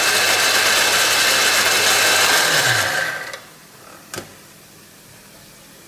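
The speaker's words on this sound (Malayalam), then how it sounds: "അപ്പോൾ ഇതിപ്പോൾ മസാല ഞാൻ മിക്സിയിലിട്ടിട്ടുണ്ട്" A kitchen mixer grinder whirs loudly as it grinds masala into a fine paste, running steadily for about three seconds before switching off and winding down, followed by a faint clack.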